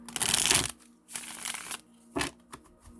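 Tarot cards riffle and slap together in a few quick bursts of shuffling, close up, with short pauses between.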